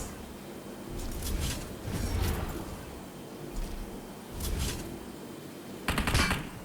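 Pump shotgun fire in PUBG Mobile, faint scattered bursts of shots at irregular intervals over game ambience, with a sharper cluster near the end.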